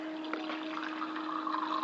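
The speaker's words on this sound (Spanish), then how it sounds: "Primero llenamos la taza vacía con agua." Water pours steadily into an empty cup for a couple of seconds, a soft continuous trickling splash with a faint steady hum underneath.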